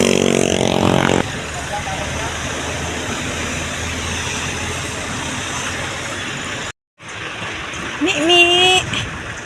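Rain falls in a steady, loud broadband hiss that continues almost unbroken, with a brief dropout near the end before a voice speaks over it.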